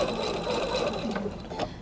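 A sewing machine stitches a quilt block onto an anchor cloth, a steady, fairly loud motor whir with rapid needle clatter running continuously and close up, with no talking over it.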